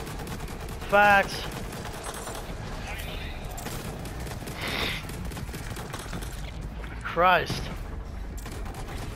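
Rapid video-game gunfire during a Borderlands 3 boss fight against the Graveward, constant crackling bursts under excited talk from players, with a few sharper reports rising above.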